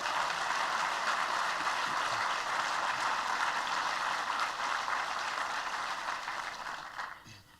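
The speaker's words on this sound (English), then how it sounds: "Let's give them a round of applause" Audience at a business luncheon applauding, a dense steady patter of clapping from a crowd that holds even and then thins out and fades near the end.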